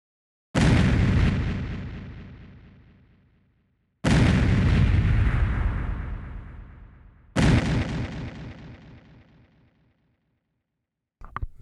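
Custom explosion sound effect with delay, three loud deep booms spaced a few seconds apart, each a sharp blast trailing off into a long rumbling decay, then a brief fragment at the end.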